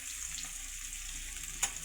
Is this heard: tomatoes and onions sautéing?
yes